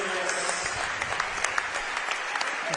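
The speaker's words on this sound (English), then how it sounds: "Apologise if you can hear my clapping in the background." Close hand clapping rings out over steady arena applause at a British Basketball League game, a dense continuous roar of clapping with sharper individual claps near the microphone.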